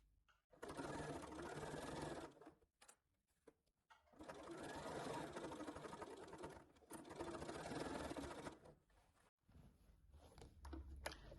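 A sewing machine stitches a strap onto a beach bag in short slow bursts, several runs of steady mechanical whirring broken by brief pauses, close and clear with no talk.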